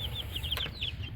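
Baby chicks peep steadily in short high chirps, several birds calling over one another close by with a soft rumble of background noise and one brief louder burst midway.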